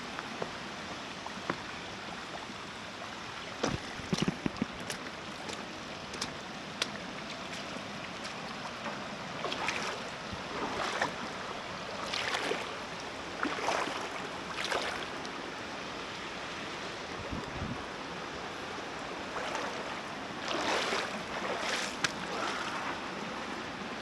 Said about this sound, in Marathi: मी आता इकडून पाण्यातून जातो पलीकडे.